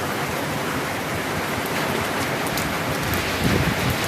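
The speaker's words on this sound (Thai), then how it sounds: "ฝนตกหนักมากค่ะ ตอนนี้" Heavy rain pours without pause during a tropical depression storm in Thailand, a dense, even roar of falling water that holds steady and loud throughout with no talking.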